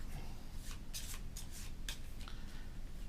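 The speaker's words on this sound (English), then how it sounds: "we're going to take these, we're going to shuffle them up" A stack of four board game cards is shuffled by hand, a run of soft papery riffles and slides repeated several times, close and fairly quiet, with no talking.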